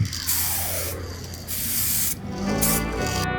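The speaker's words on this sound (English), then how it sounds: "Then it's all locked in with some 2K lacquer" 2K lacquer hisses from a spray gun onto a car spoiler in three close, steady bursts, each followed by a short pause.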